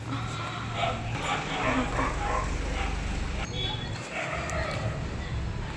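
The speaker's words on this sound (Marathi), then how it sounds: "कुत्रे तर लई भोकायला लागले" Several dogs bark and yip in short, repeated bursts at moderate distance, with some whimpering, while people talk over them.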